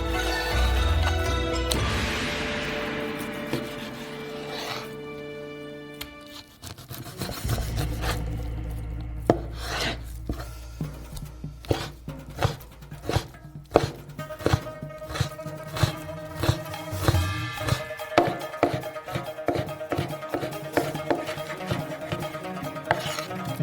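A knife slicing pork belly into thin strips on a board, a run of quick, crisp chopping taps speeding into a steady rhythm after an initial rustle and thud, close and clear, without speech.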